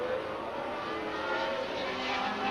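Formula 1 race cars, including a Lotus 79, roar during a late-1970s Grand Prix, a continuous engine drone with shifting pitch heard from a distance.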